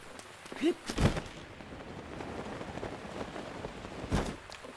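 Rain falls steadily in The Legend of Zelda: Breath of the Wild, a soft continuous hiss of drops with a few louder thuds and rumbles, moderately close, and a voice briefly heard near the start.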